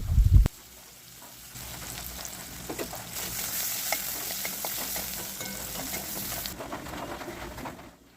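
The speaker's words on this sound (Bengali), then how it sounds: "একটা ছোট সাইজের পেঁয়াজ কুচোনো তেলের মধ্যে দিয়ে দেওয়া হলো এবার পেঁয়াজটা ভালো করে ভেজে নেওয়া হবে" Chopped small onion dropped into hot oil, with a loud thump at the start and then a steady crackling fry and stirring scrapes that fade near the end.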